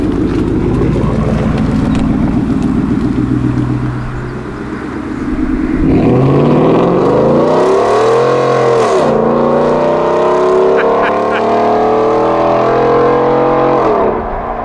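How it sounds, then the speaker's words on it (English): A Ford F150 pickup fitted with a Borla ATAK exhaust makes loud flybys, its engine roaring and rising in pitch as it accelerates closer, then sweeping past with a deep, sustained rumble. "Time to do some flybys just to compare the sound from outside of the truck."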